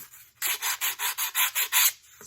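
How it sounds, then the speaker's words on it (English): A sanding block rubs back and forth over a glued joint on a Tornado Updraft 12 model aircraft, giving about eight close, steady, rasping strokes in an even rhythm with no talk. "Just using our sanding block and just kind of smooth that out a little bit."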